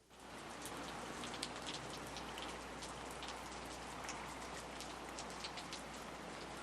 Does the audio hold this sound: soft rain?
yes